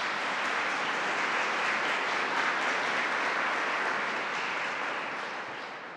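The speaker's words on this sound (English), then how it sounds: "Let's give Melinda a round of applause as well." An event audience applauds for Melinda Pearson in a steady, even wash of clapping, heard somewhat distantly and without talk, easing slightly toward the end.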